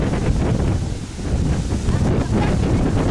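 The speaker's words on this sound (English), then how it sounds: "Oh, it's really windy now." Strong wind buffets the microphone outdoors after a spell of rain, a loud, continuous low rumble and roar that barely eases for about three seconds.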